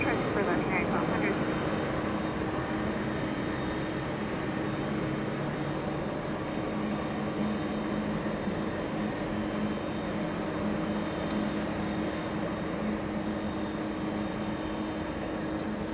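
A Delta Airlines Boeing 767 jet at Los Angeles International Airport gives off a steady, loud broadband roar with a constant low hum, running unbroken for the whole stretch, with faint voices now and then.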